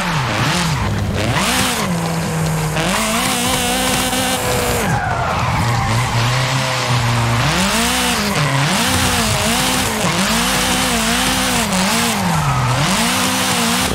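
A car drifts in Forza Horizon 5, with loud continuous tire squeal and a wailing engine that rises and falls for several seconds, close and dominating with no pause.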